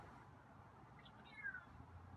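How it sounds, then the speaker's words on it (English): A feral cat named Scruffy gives a faint, thin meow around the middle of the clip, quiet and somewhat distant over a steady outdoor background hiss with no talking. "your meows are still a little weak"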